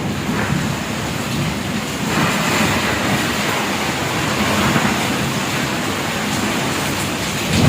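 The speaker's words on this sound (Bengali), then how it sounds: "কি ঝড় বৃষ্টি" A heavy rainstorm roars continuously indoors, rain dripping onto a bed, a dense loud wash of downpour with no breaks and no one speaking.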